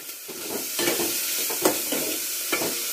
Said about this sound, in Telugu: బౌల్లో ఉన్నవి మాడిపోకుండా అప్పుడప్పుడు గరిటెతో కలుపుతూ మిక్స్ చేస్తూ ఉండాలి.